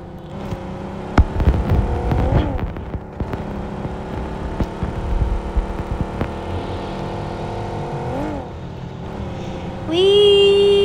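A car engine in the video game PUBG hums steadily while driving, its pitch rising and falling with gear shifts and acceleration, with a few thumps and a higher revving whine near the end.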